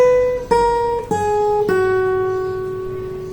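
Fingerstyle acoustic guitar picking pattern from a song tutorial: four clean plucked notes in slow succession, each ringing out and decaying, played alone and close.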